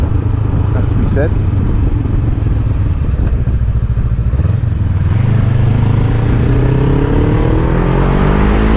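A Kawasaki ER5 commuter motorcycle exhaust note while riding, a loud, continuous engine drone with rising and falling revs, up close, with wind noise throughout.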